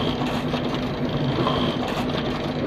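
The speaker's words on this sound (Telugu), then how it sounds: "లెఫ్ట్ కార్నర్కి ప్రింట్ అయ్యి వచ్చేసి పిన్ అయ్యి వచ్చేస్తుంది." Konica Minolta Bizhub 1100 copier printing and stapling, giving a steady, close mechanical whir and hum that runs unbroken through the clip.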